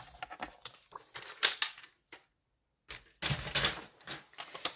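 Cardstock being cut by hand for a stamped cow greeting card, giving a few crisp, close snipping and crinkling bursts separated by a short silent gap, with no talking.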